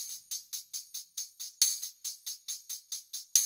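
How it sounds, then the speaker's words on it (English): A tambourine loop jingles in a quick, even rhythm, bright shimmering shakes with a couple of slightly louder accented hits, soft and alone. "I have a tambourine loop here playing."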